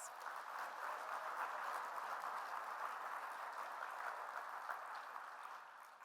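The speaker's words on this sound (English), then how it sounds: "Please give them a round of applause" Sustained, even applause from an audience at a nursing leadership event, a dense wash of many hands clapping that holds steady and tapers slightly at the end, with no voices on top.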